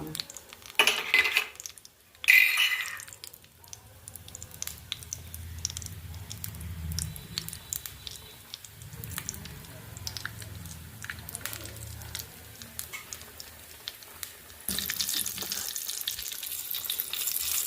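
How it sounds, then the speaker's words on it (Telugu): Cumin and mustard seeds tempering in hot oil, a steady crackling sizzle that holds at a moderate level, with a few sharper clatters near the start and a brighter, louder hiss toward the end. "ఇప్పుడు జీలకర్ర వేద్దాం అలాగే ఆవాలు వేసేద్దాం"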